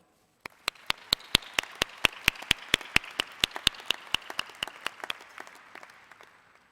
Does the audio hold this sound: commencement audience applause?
yes